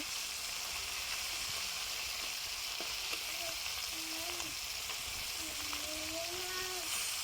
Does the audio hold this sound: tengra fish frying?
yes